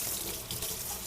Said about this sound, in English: Alright, so make sure this is cold water. I'm gonna wash the chicken.